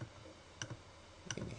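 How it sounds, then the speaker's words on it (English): Two soft computer mouse clicks, spaced about seven tenths of a second apart, made while the Alt key is held in Photoshop, faint and close over quiet background hiss. "Hold down the Alt key and click"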